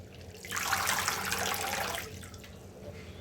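Water pours and splashes while grated potato is rinsed in a kitchen, a burst of running, splashing flow lasting about a second and a half before easing into quieter trickling, close by and without talk.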